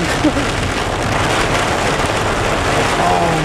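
Heavy rain falling steadily while someone rides a bike, a dense constant hiss with no breaks, loud and close throughout.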